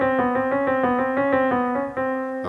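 Piano tones rapidly alternate around a sustained pitch in a quick, even trill, imitating the wavering of a sung vibrato, clear and close with no voices.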